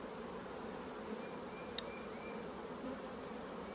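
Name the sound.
honey bees buzzing around a hive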